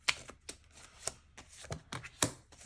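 A tarot card is drawn from the deck with a string of crisp, close papery flicks and snaps, several sharp taps spaced irregularly, with no talking.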